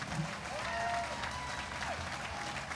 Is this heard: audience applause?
yes